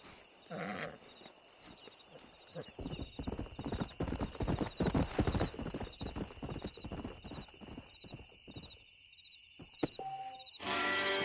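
Stallion hooves clip-clopping at a steady rhythm in the video game Red Dead Redemption, with occasional whinnies, crickets and insects chirping in the background, and a sharp burst near the end.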